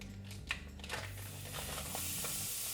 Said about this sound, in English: we are going to start browning our meat